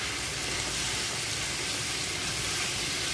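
Okra, first fried in oil with water, sizzling loudly and continuously in a spiced pan, with a dense, close, steady frying hiss throughout.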